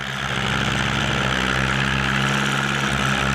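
A Kubota L50 tractor's diesel engine idles steadily with a low, throbbing rumble and a constant mechanical hum, close by and unbroken throughout.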